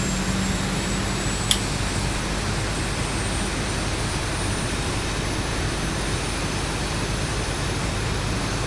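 Boeing 737 jet engines spooling up in the X-Plane flight simulator, a steady loud broadband roar with a low hum held throughout, one brief click near the start.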